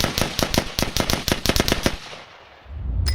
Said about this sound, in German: 10 Schüsse in weniger als 5 Sekunden